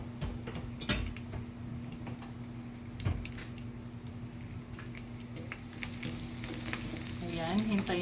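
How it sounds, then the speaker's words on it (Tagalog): Garlic frying in oil left over from pork chops: a continuous close sizzle with occasional utensil clicks and stirring taps, growing a little louder and busier toward the end, with no talking. "sa oil na ginamit natin kanina, ilalagay na natin ang ating bawang"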